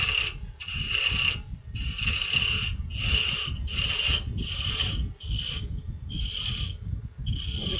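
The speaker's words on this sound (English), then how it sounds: "I'm going to turn this thin down a little bit using my roughing gouge." A roughing gouge shaves waste wood from a spinning birdhouse ornament blank on a lathe, giving a steady run of harsh, rasping cutting bursts broken by brief pauses, close and loud with no talk.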